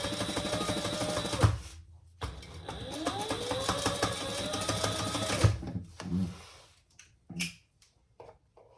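Sewing machine stitching the folded side seams of a crossbody bag, running steadily in two long bursts with a short pause between, then stopping and followed by scattered handling clicks.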